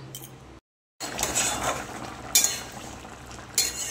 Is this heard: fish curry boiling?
yes